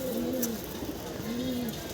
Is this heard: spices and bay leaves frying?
no